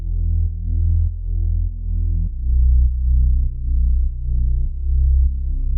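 A low, droning detuned synth tone for reggaeton throbs in a slow, wobbling pulse, gritty with distortion, shifting pitch partway through and sustaining without pause.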